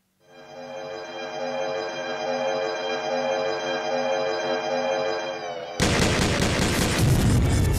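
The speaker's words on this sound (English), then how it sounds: "Exothermic bomb." A sustained rising tonal drone swells for several seconds in Garry's Mod, then an exothermic bomb erupts into a loud, broadband explosive roar that carries on to the end.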